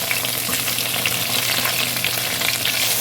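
Potato-stuffed puri fry in hot oil with a dense, even sizzle and hiss that runs steadily throughout, heard close with no speech.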